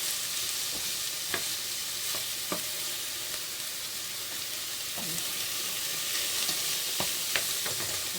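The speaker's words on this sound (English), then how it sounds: "And we'll just keep stirring." Vegetarian Bolognese being stirred in a frying pan over lowered heat, a steady frying sizzle broken by scattered scrapes and taps of the spoon, with no talking.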